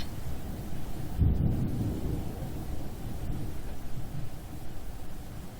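Soft rain falls in a forest in the video game 괴이증후군2, a steady faint hiss with a deep rumble of thunder rolling in briefly near the start.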